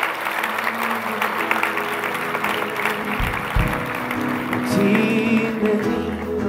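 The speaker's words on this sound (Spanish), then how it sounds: "Vamos a dar un aplauso fuerte a nuestro Señor por lo que Él ha hecho." A Spanish-speaking church congregation claps loudly throughout, with tonal music or voices sustained underneath and a few low thumps partway through.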